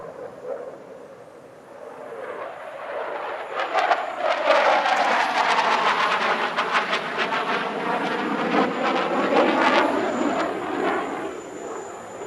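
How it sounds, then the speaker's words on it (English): Dassault Rafale fighter jet in a flying display at the Dubai Airshow, a loud roaring jet pass whose pitch sweeps and swells as it nears, holding a steady heavy rumble throughout, no talking. "And here is the UAE's fighter of the future, the Dassault Rafale."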